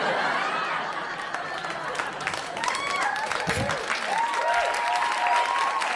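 A stand-up comedy audience bursts into applause, a dense wash of clapping mixed with whoops and chatter, and a voice calls out over it.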